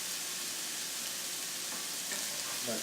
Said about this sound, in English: Sauteing that really, really nicely